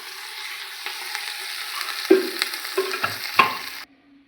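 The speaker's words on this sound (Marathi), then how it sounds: "तर छान असा कांदा परतला" Onion frying in oil for chicken biryani, stirred in the pan: a soft hiss with a few scraping, clattering stirs, then a sudden cutoff near the end, no speech.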